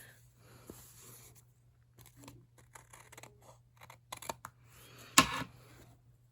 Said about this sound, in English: I trim it a bit.